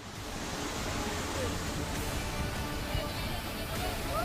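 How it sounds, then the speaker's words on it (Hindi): Flash floodwater in Bandipora rushes past, a loud, continuous roaring wash with a steady turbulent texture. "तेजी से पानी आया और सब कुछ अपने साथ बहा ले गया।"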